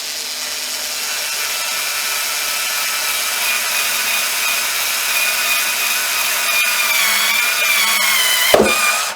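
A power drill whines steadily at high pitch for several seconds, drilling a hole in a flower pot, growing slightly louder, then stops with a brief clunk near the end.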